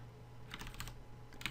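Quick bursts of typing on a computer keyboard, a short cluster of soft keystrokes followed by a couple more taps, close and quiet, alone.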